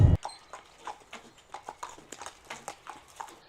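Hooves of Mehitabel the horse clip-clop at a steady walking rhythm, a fairly close, regular series of hollow knocks sounding alone.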